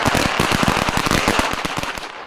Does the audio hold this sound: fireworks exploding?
yes